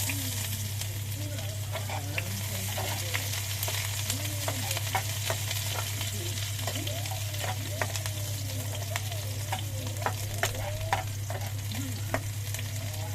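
Sliced onion sautés in a small pan for chicken tinola, giving a steady close sizzle with frequent sharp crackles and pops and occasional stirring scrapes, with a low steady hum underneath.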